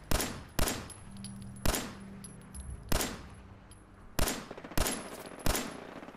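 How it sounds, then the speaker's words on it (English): Repeated gunshots from the player's gun in a video game featuring sentry bots, seven sharp, loud reports spaced unevenly about a second apart, with no talk over them. "Let me shoot at him with my gun"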